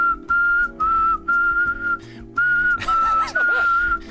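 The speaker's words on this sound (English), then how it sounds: "Can you whistle?" Someone whistles a clear, steady tune in several sustained phrases with short pauses between them, close and fairly loud, with a faint hum of background activity underneath.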